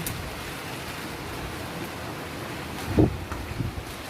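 Strong wind blows outdoors in a steady, broadband rush, with a short louder gust or buffet near the end and no talking.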